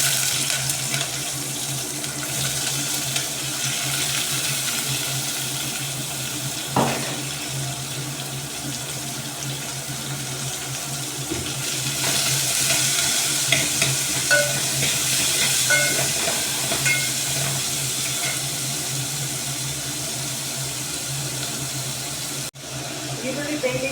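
Onions and curry leaves frying in a pan while being stirred, with a steady hiss of sizzling and occasional scraping taps throughout; the crackle swells louder in the second half, and a voice speaks faintly now and then.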